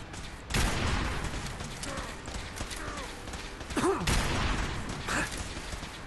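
Gunshots in Fallout 4's Far Harbor, several sharp cracks over a busy game soundscape, with voices talking over the action.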